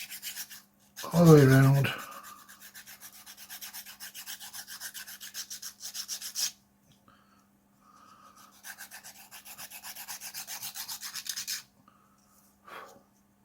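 Sandpaper rubbing quickly over a sword blade in repeated rapid back-and-forth strokes, close and fairly loud, in two bursts separated by a pause; someone speaks briefly near the start.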